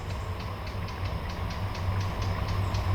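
At a rural carp fishing pond, a passing train on a nearby railway line rumbles at a distance, steady rhythmic wheel clicks building slightly louder, with no voices.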